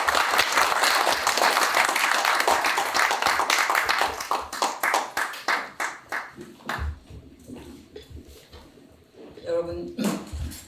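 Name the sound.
audience applause welcoming a speaker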